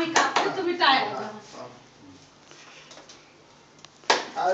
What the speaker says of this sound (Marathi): आम्ही कापतो तुम्ही टाळ्या वाजवा